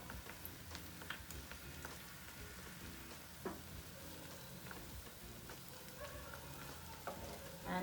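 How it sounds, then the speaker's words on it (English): Pakoda fritters frying in a pan over medium heat give a faint, steady sizzle with scattered small pops and crackles, alone without speech. "I'll cook this over medium heat now, turning it in between."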